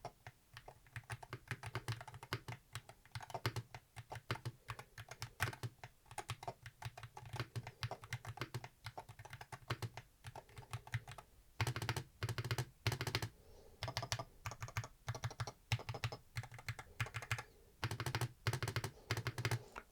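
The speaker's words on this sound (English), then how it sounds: "Let's see what it sounds like when we do a bit of typing." Typing on a Monsgeek FUN60 magnetic keyboard, with rapid, close, steady keystrokes clattering in dense bursts for the whole stretch and no voice over them.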